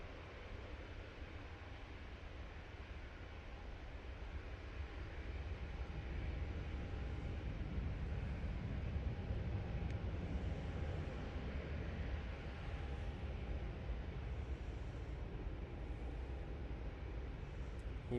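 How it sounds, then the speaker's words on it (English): A Virgin Atlantic Airbus A330 arriving from New York JFK, landing at Manchester Airport: a steady broad roar with a low rumble that swells slightly midway and holds, distant, with no talk. "So it's the Virgin Atlantic A330 coming in from New York JFK."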